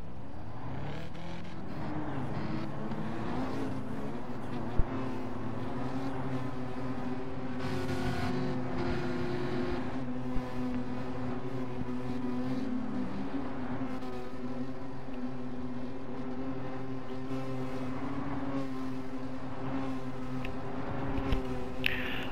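A Ferrari race car with a custom livery driven in Gran Turismo 7, its engine droning steadily at high revs for the whole stretch, with a few brief clicks and shifts and no talk.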